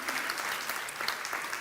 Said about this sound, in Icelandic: Ég klappa fyrir því.